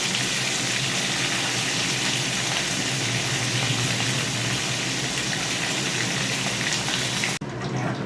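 Pointed gourd (potol) pieces fry in a pan with a steady, dense sizzle that holds evenly at close range, then cuts off abruptly near the end; no voices are heard.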